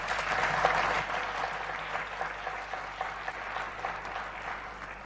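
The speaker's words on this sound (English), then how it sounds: "Please give him a round of applause." Audience applause at the Africa Forward summit in Nairobi, a steady wash of many hands clapping at moderate distance, fairly even throughout and gradually easing.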